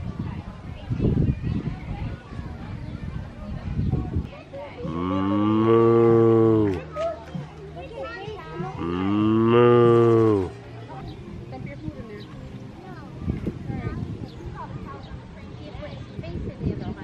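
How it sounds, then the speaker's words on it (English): Cows low at a family farm, two long, loud, close moos in succession, with people chatting nearby before and after. "Hey, Abe, go touch the fuzzy cow."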